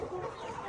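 Chickens being fed pumpkin cluck in a short, steady stretch of fowl chatter, close by and moderately loud, with no speech over it.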